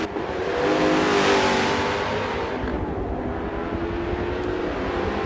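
A Koenigsegg race car in Forza 7 at Circuit de Catalunya revs hard, its engine note swelling loudly, then easing off into a steady, slightly quieter drone as it runs on through the corner.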